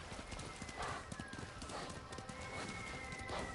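Kage the horse's hooves clip-clop steadily in Ghost of Tsushima, a soft regular gait with a brief whinny-like tone and quiet game ambience around it.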